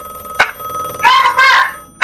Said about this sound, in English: Wait. Phone. I will answer the phone.